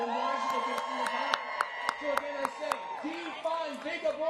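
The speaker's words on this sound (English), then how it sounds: "One more big round of applause" Rally crowd at a Planned Parenthood patients' rights event gives a round of applause, cheers and whoops rising over a steady murmur of voices, with sharp claps and shouts scattered throughout.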